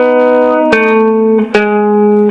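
A clean electric guitar plays a riff. Sustained plucked notes are joined by a hammer-on, with two sharp pick attacks marking note changes, close and steady with no talking.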